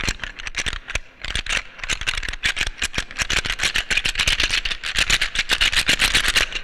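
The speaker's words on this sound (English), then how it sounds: "The rattling sound of it." Loud, dense rattling clatter, like dry bones knocking together, with rapid irregular hits continuing for several seconds and no speech.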